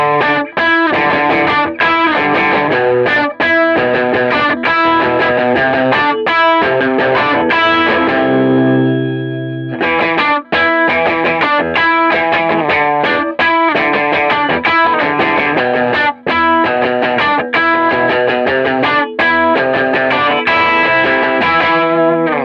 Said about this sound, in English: I'm going to switch down to the bridge position, and I'm going to play that same riff that you've heard before for sure